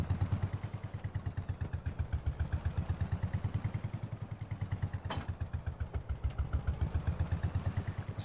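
A small 14-horsepower tractor engine in Farming Simulator 22 idles with a rapid, even low chugging pulse, steady throughout with a brief clunk partway through.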